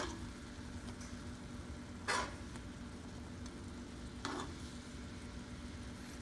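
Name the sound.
chicken frying in a pan as it is flipped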